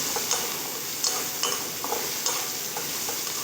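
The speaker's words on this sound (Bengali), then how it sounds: "রসুন আর পেঁয়াজ একটু ভালো করে ভেজে নেব" Onions and garlic frying in a pan, with a steady close sizzle and the repeated scrape and tap of a spoon stirring through it.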